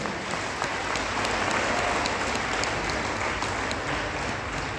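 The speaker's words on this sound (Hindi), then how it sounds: "मैं चाहूँगा कि जोरदार तालियां हम लोग बजाएं" A large audience at a motivational business seminar claps loudly and continuously, a dense, even wash of applause with no voices over it.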